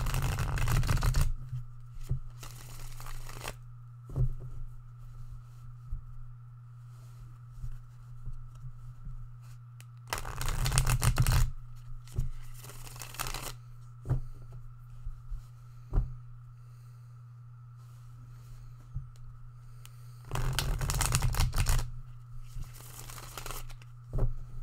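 A deck of cards is shuffled in three brisk riffling bursts spaced about ten seconds apart, close and crisp, with a low steady hum and quiet handling noises between them.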